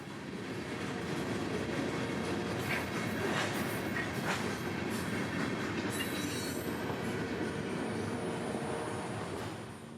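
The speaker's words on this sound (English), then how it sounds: "L781 would roll north with an SD40-3 leader leading another Dash 8 out of the Tampa power pool" CSX freight train L781 led by an SD40-3 with a Dash 8 rolls past at night, a loud sustained rumble with clattering wheels and a thin high squeal of flanges building late in the passage.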